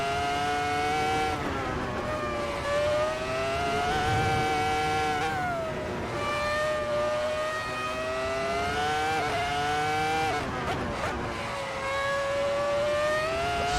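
A car on the Nürburgring, its engine held at high revs while stuck between gears, a steady droning whine with small pitch dips and surges, loud and close, with no talk.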